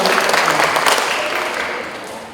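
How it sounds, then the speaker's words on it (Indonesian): An audience at a district stunting case audit dissemination meeting applauds for a doctor, with dense, steady clapping that holds loud throughout and tapers slightly at the end. "Mari kita berikan aplaus dulu pada Ibu Dokter"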